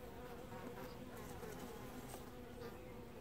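Honeybees at an opened hive during a UK beekeeping inspection make a dense, steady buzz close by that fills the whole stretch, with no talking.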